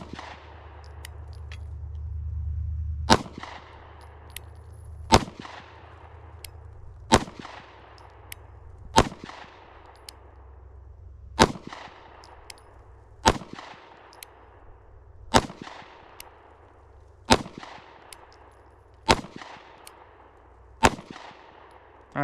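Pistol shots fired one at a time at an outdoor range, about ten sharp, loud reports spaced roughly two seconds apart, each followed by a short ringing decay, after a low rumble at the start.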